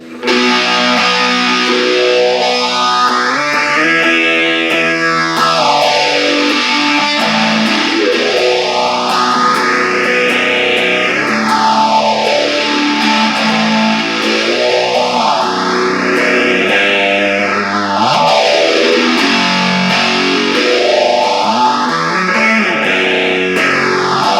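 An electric guitar rings through an MXR Phase 95 phaser pedal with distortion, a thick, sustained, overdriven tone whose slow, deep sweep rises and falls about four times without pause.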